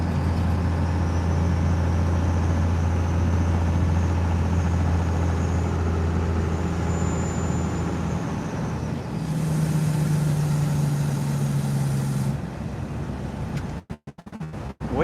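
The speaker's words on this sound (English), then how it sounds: "We are driving to a client's house to deliver 2 cords of firewood, and we have hit some bad ice" A truck hauling two cords of firewood drives slowly over a bad icy road, its engine a low steady rumble with road noise, followed by a brief shift in tone and a few sharp knocks near the end.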